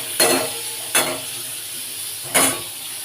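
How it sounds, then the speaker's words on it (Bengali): Pointed gourd (potol) in very hot oil, giving a steady sizzle with three sharp scraping stirs that each flare up loudly, heard up close with no talk. "তেল আমার খুবই গরম হয়ে গেছে একটু পটলগুলো নাড়তে নাড়তে ভাজা হয়ে যাবে"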